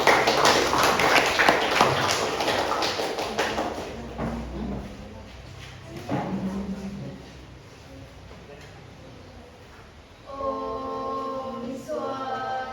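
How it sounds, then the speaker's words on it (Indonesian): Classmates clap for a group presentation in a classroom lesson, the applause loud and dense at first, then thinning and fading after a few seconds into quieter room sounds and brief voices. "Oke, beri tepuk tangan."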